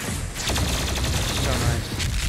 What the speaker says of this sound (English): I do love these sticky grenades